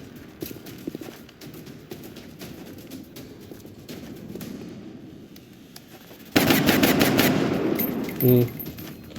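Gauss rifle fire in a turn-based strategy game against alien sectoids, heard as faint rapid clicking pops followed by a sudden loud, sustained electric burst with a ringing tonal whine near the end.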